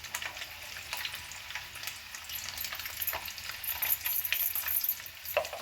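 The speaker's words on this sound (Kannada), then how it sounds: "ಒಂದು 2 ನಿಮಿಷ ಚೆನ್ನಾಗಿ ಆಯಿಲಲ್ಲೇ ಫ್ರೈ ಆಗಲಿ ಗೈಸ್, ನೀಟಾಗಿ." Egg curry masala frying in oil, with a continuous close sizzle dotted with small crackles and pops, fairly even throughout.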